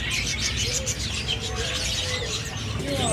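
Pleci Montanus white-eye birds chirp in a dense, continuous chorus of high tweets from a crowded stock at a bird kiosk, with steady low background hum.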